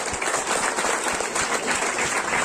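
A crowd claps together at a testimonial gathering, a dense, fairly loud wash of applause with quick individual claps standing out, continuing steadily for a couple of seconds.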